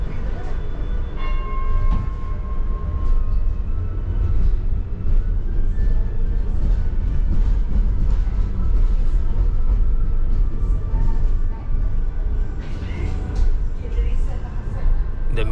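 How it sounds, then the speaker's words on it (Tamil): A metro train in Msheireb Downtown, Doha, Qatar rumbles past nearby, a loud continuous roar with metallic squeals and clatter throughout. "அந்த மெட்ரோ ட்ரெம் வந்துக்கிட்டே இருக்கும்"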